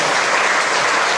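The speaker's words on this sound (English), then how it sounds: "Let's give them an applause" Applause from a concert audience, a dense steady wash of clapping that fills the whole moment, loud and close with no break.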